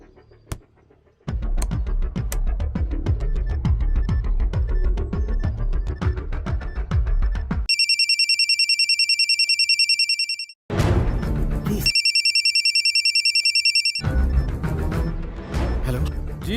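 A telephone rings in repeated electronic bursts, two clear ring sequences separated by a pause, loud and close, following a stretch of dense music and rumble.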